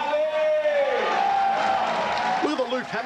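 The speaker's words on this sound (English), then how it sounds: "Big round of applause for Tama and Charlie." A crowd at a fight event cheers and whoops for the fighters in a loud, sustained roar. A ringside announcer talks over the noise.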